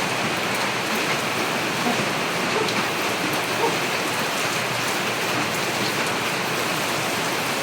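Heavy rain falls in a steady, dense hiss, pouring down loud and close on surfaces for the whole stretch with no break, alone and without talk.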